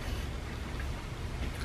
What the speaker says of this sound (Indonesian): Di luar hujan guys, kalau hujan-hujan kayak gini males banget kalau nguliah.